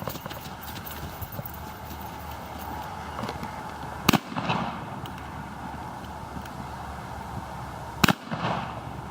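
A single-shot shotgun fires twice during a defensive drill, two loud, sharp blasts about four seconds apart, each trailing into a short echo over steady outdoor background noise.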